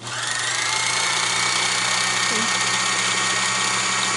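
A Kenmore 158.13413 sewing machine runs fast with the wheel loosened, giving a steady, continuous motor whir with a fine high buzz that holds evenly from start to finish, close and moderately loud, with no talking.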